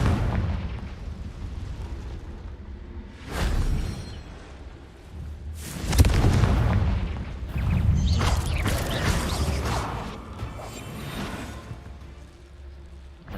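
Confringo spell blasts in a Harry Potter video game, a run of deep booming explosions with rumbling bursts and crackling debris, loud and close, several impacts rolling into one another.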